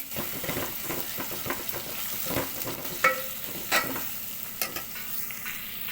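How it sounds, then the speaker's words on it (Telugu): Turmeric being stirred into a brinjal and tomato curry base in a pan, a steady sizzle with repeated spoon scrapes and clinks at close range, no voices. "ఇప్పుడు ఒక స్పూన్ పసుపు వేయాలి బాగా కలపాలండి"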